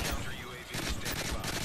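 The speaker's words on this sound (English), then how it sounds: "that's a shotgun I hear" Shotgun fire in a Modern Warfare video game, a rapid run of broad blasts close together over continuous battle noise, with no clear pauses between shots.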